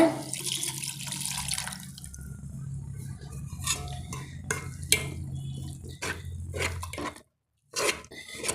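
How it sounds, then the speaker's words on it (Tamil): Water splashes and trickles into a pot of chickpea curry, with faint clinks of metal and a low steady hum from the stove area, ending in a brief pause. "தேவையான அளவு தண்ணி சேர்த்துக்கலாங்க"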